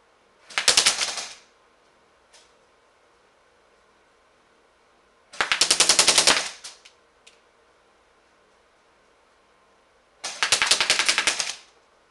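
A DBOYS SCAR airsoft rifle shooting BBs at about 430 fps on full auto with a weak battery fires three separate rapid bursts, each about a second long and close by, with quiet pauses between them.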